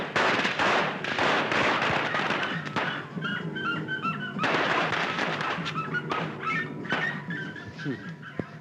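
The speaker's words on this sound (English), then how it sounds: "Fireworks." Fireworks going off in a 1952 film set during the Malayan Emergency, a volley of sharp cracks and thumps, dense at first and then scattered, with crackling bursts and voices in between.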